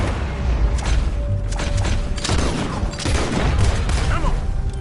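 Gunfire in the Western video game Red Dead Redemption: a continuous stretch of booming shots and heavy thuds, loud and close, with no clear pauses between them.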